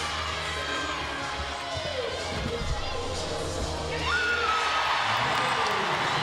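A crowd of 9,000 fans roars and cheers at a women's gymnastics meet between Oregon State and Air Force, a dense, steady wash of shouts and whoops from a big arena that swells near the end, with a commentator's voice faint beneath.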